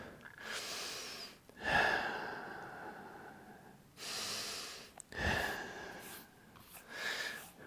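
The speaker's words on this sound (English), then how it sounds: "take a deep breath and then exhale" Deep breaths during a yoga practice, a long exhale followed by further breathing bursts, close and fairly soft with no talking.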